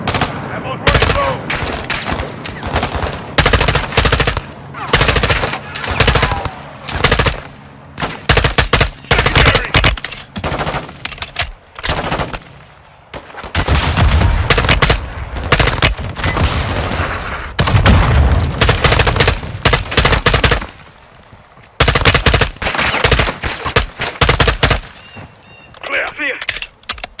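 Machine gun fire in Call of Duty Modern Warfare 2, rapid loud bursts of automatic gunfire in clusters separated by brief pauses, with battlefield voices shouting between the volleys.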